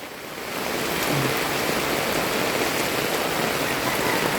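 Flood water flows around a house during heavy, persistent rain, making a steady, loud broadband rush. It swells in over the first half second and then holds constant, with no voices.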